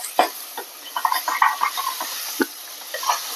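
Ground wet coconut and garam masala with coriander being stirred and sautéed in oil in a pan for a crab curry, with soft scraping stirs and gentle sizzling pops, quiet and intermittent.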